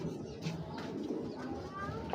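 Racing pigeons in a seller's loft coo low and soft, a warbling murmur repeating close by amid faint background voices.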